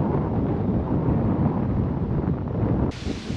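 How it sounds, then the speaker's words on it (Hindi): Strong wind roars steadily across the microphone on a mountain trek near Chokramudi in Munnar, a loud broadband rush with gusts throughout and a brief shift in tone near the end; no voices. "टोपी लगता मेरी उड़ जाएगी, बहुत तेज हवा है"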